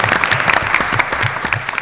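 Graduation-style audience applause at a school presentation, dense steady clapping from many hands, close and loud throughout with no talk.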